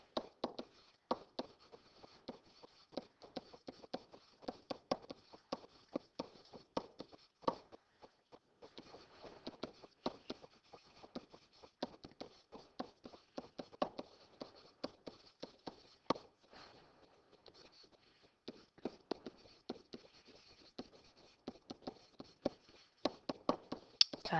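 A pen scratches across paper while someone writes out the givens of a geometry proof on similar triangles, giving steady, close, fairly quiet strokes and taps in irregular bursts for the whole stretch, with no talking.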